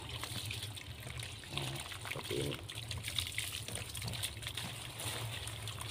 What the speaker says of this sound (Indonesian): Siram kocor ya,